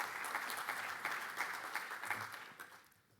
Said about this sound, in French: je vous remercie d'applaudir donc Bertrand Piccard qui vient prononcer son discours